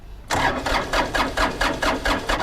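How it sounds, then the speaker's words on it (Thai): A Kubota L3408 tractor's diesel engine, parked for a long time, starts after its glow plugs are heated. It catches quickly and runs in a close, loud, pulsing rhythm of regular throbs. "พวกนี้ต้องได้เผาหัวสตาร์ทนะครับ ติดง่ายครับ"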